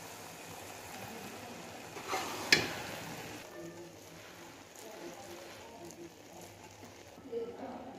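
Cooked rice for Hyderabadi gulatti being stirred and mixed in a pot, with soft scraping and faint sizzling plus a sharper clank of the spoon early on, fairly quiet and steady.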